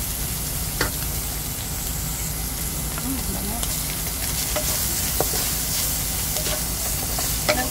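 Garlic sizzling and frying in a hot pan while pinakbet is cooked, with a continuous loud hiss, crackle and occasional stirring clicks close by.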